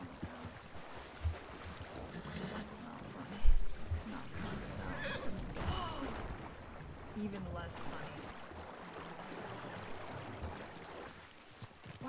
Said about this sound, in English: Why is my horse running away from me?